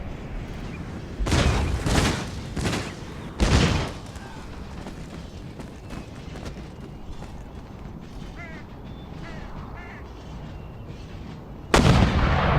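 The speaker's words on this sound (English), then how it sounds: "Here comes the salvo." Artillery salvos thunder in Empire: Total War, with several heavy booming volleys in quick bursts followed by a quieter battlefield rumble, then another loud blast at the end.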